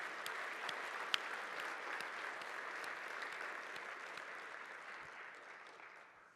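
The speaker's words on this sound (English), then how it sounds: "I want to give a quick round of applause to the people who have spoken and those who are about to speak today" Audience applause at the SaltConf17 keynote, a steady dense clapping from a large crowd held for about six seconds, then fading slightly at the end, with no talking over it.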